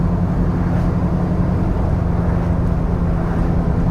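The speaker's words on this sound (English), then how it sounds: "I got a weird whine I'm hearing." A 1971 VW Bus driving in third gear at about 40 mph gives a steady, loud engine and road drone with a faint whine running through it the whole time, with no talk.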